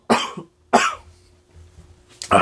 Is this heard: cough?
yes